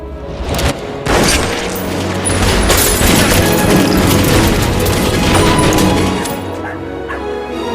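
A group of gunmen open fire in a basement ambush in a mafia crime film, a loud sustained burst of rapid gunshots and booms that fills the scene before easing off.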